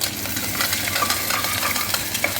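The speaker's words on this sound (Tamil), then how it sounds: "அதையும் சேர்த்து நம்ம போட்டு நல்லா கிளறி விடணும்." Onions and four chopped green chillies are stirred as they fry in a pan for a carrot and cabbage stir-fry, with a steady close sizzle and scraping stirs throughout.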